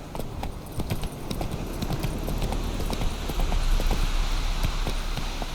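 Hooves of Roach, the horse in The Witcher 3, clip-clop in a quick, steady trotting rhythm, close and clear, with a low rumble of movement beneath.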